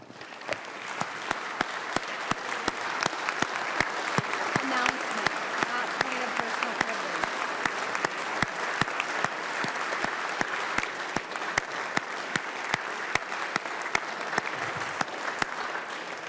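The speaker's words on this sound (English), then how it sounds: "if the members wouldn't mind joining in a round of applause for our state champs" State House members give a long round of steady applause on the House floor for state champions, filling the chamber with even, continuous clapping.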